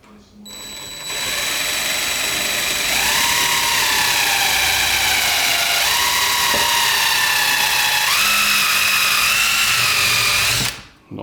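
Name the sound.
power drill drilling hole in cabinet door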